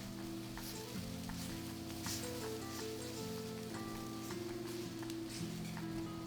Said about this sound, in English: Now we're going to start cooking the rice. You see the heat is still up very, very high at the beginning